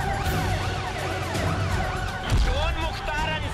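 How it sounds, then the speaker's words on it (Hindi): An ambulance siren wails in a repeating rising-and-falling pattern as it moves with a convoy along the Karnal national highway, loud and continuous over road noise, with a low thump partway through. "ये वो एम्बुलेंस है जिसमें मुख्तार बैठा है, देखा जा सकता है, लेके जा रहा है।"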